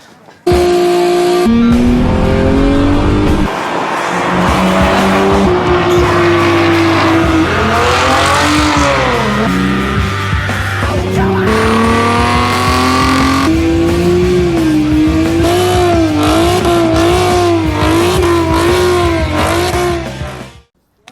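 A race car on an SCCA autocross course revs hard and continuously through shifting engine tones, with tire squeal as it accelerates and turns, loud and close, for roughly twenty seconds before cutting off.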